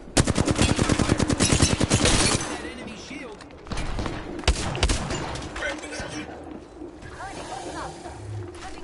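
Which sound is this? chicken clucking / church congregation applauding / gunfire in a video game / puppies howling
gunfire in a video game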